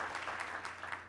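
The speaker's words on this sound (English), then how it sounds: "I think that's worthy of applause" Applause from an audience at a business-conference interview on stage, a steady, fairly quiet patter of many hands, lasting about a second with no voices over it.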